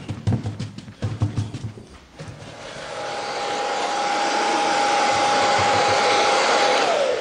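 A hair dryer blows steadily on wet chalk paint for a rust effect, starting after some brush tapping and holding a loud, even whirring hum for several seconds.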